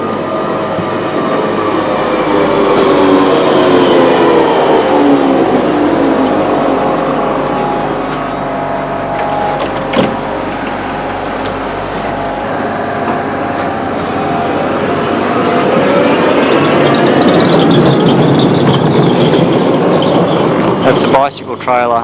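A Stuttgart tram grinds uphill on a modernised rack railway line, its motor whine rising and falling in loud, sustained tones while someone talks over it.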